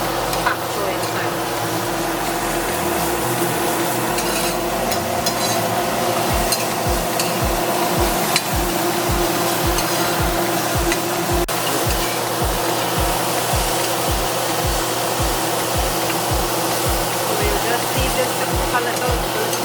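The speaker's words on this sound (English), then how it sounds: "Just wait for this to saute a little bit, and then I'll throw the Bok Choy inside." Food sautéing in a frying pan before bok choy goes in for a fried pak choi and bodi dish: a loud, steady sizzle with a rhythmic scraping or stirring pulse running through it, and no talking.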